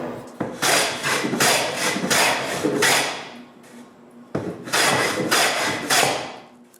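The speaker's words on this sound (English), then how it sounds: "Since it's wider than the rabbet, I plane it to size." Hand plane shaving a wooden serving-tray piece down to width, long broadband rasping strokes in two bursts with a short pause between, close and fairly loud with no talking.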